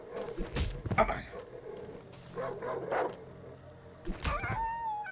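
A dog in the horror game Darkwood barks and whimpers in scattered bursts, some sharp and loud, others thin and whining, over shuffling footsteps and a dull background.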